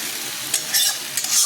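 Spice mix gets stirred into cabbage frying in a pan for a katla fish head cabbage ghonto: a steady close sizzle broken by a few scraping stirs.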